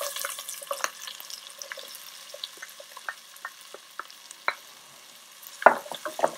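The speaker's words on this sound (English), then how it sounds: "When you're happy with your pancetta, it's looking a little bit brown and crispy, you want to add your onions." Pancetta and onions frying in a pot for clam chowder, with soft sizzling and a series of scattered clinks and scrapes from stirring, close and fairly quiet, no talk.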